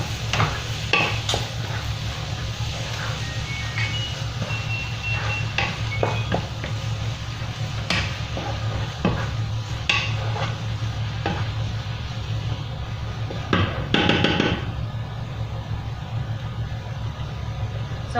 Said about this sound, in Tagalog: nilagay ko na yung sibuyas. Hintayin lang natin din na maluto yung sibuyas